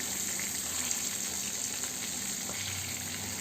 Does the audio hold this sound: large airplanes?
no